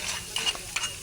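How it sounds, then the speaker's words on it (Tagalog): Crab sautéing in hot oil in a pan, a steady close sizzle with the scrape and clatter of stirring breaking through in short bursts. "Nalagyan ng mantika at nagisa na siya."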